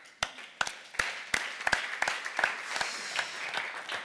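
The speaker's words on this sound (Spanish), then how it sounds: "He arrencat un aplaudiment per si acas" Sparse, scattered claps from a small audience on a live show set, a handful of sharp individual hand strikes spaced irregularly, fairly quiet and alone.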